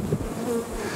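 Honey bees buzz steadily and densely at close range while being brushed off a honeycomb at an apiary during the honey harvest.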